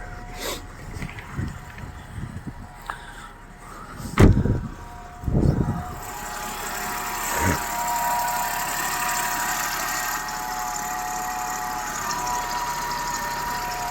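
A 2012 Dacia Logan 1.6 petrol/LPG engine idles steadily after a fully cold start, its even mid-pitched hum settling in after a few knocks and thumps early on, with no voices.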